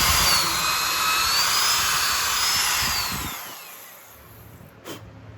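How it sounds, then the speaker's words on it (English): A power drill with a pocket hole bit whines at high speed while boring into a wooden cornhole board leg in a jig, then winds down and cuts off, followed by a brief clunk. "Make sure the drill is relatively level and straight."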